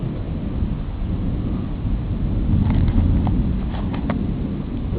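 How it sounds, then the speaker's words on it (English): Thunder in a summer thunderstorm at night, a deep low rumble rolling steadily across several seconds, loud and sustained, with faint crackle on top. "Some interesting cloud formations I'm seeing when the thunder strikes, when the lightning strikes."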